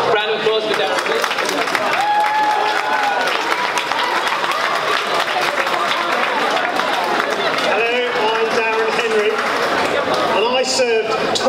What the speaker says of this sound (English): Round of applause for Darren, please.